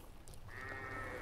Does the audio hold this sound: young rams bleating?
yes